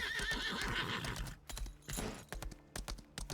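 A video game horse whinnies loudly at the start, then hooves clop in an uneven rhythm with scattered thumps and rustling, no talking.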